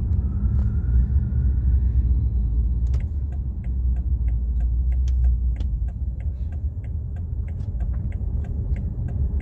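A BMW M5 Competition engine and exhaust rumble low and steady throughout, with faint ticking layered over the deep drone.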